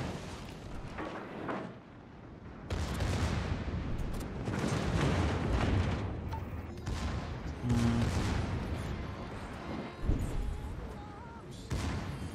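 Battleship guns in a naval video game firing in heavy booming salvos, loud blasts and rumbling echoes that come in several bursts, with a low background mix throughout.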